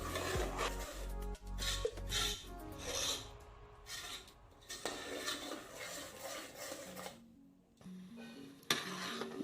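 A spoon scrapes and rubs around a pot of jackfruit payasam with sugar in uneven strokes, close and fairly quiet, with occasional clinks and a few faint tonal blips.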